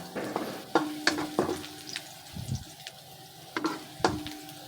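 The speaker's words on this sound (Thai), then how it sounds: "แล้วก็เอากระเทียมลงไปผัดค่ะ ผัดกระเทียมให้หอมฟูค่ะ" Garlic stir-frying in lard in a wok, a soft sizzle punctuated by sharp spatula clacks and scrapes against the pan, close and alone.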